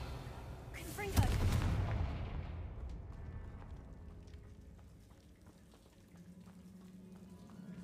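A Confringo blasting spell in a Harry Potter video game bursts into a loud, sudden explosion that decays into a long crackling, rain-like rumble over several seconds.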